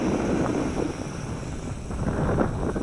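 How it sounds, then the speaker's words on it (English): Outdoor wind buffets the microphone during a test flight of a Nihui Toys U807 drone, a steady broad rushing roar that swells slightly, loud and close with no talking. "This wind is screwing me up here, folks."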